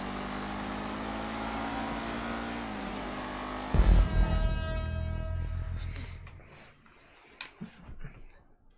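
A car engine in a GTA 5 race revs at a steady high pitch, then drops sharply into a loud burst and winds down into fainter engine noise and clicks, with a voice talking over it.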